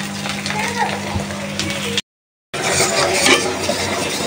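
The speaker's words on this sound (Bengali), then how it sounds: "আর এখন মাগুর মাছটা বসাই দিলাম" Magur fish goes into a hot pan and sizzles loudly, with stirring and clinks of a utensil against the pan, broken by a brief silent gap.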